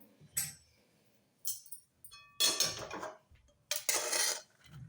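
Cooked red pumpkin scraped and scooped from a pan into a bowl with a metal spoon, giving several separate clinks and scrapes of utensil on cookware, with quiet pauses between them and no talking.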